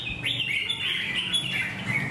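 Red-whiskered bulbul, a wild-caught fighting bird about two seasons old, calls with a continuous run of bright warbling chirps, close and clear with no talk.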